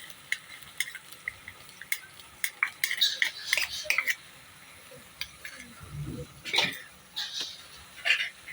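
A utensil scrapes and taps against a pan as crushed cumin, black pepper and green chilies are stirred into beef keema, scattered clinks and scrapes over a faint sizzle, fairly quiet and close.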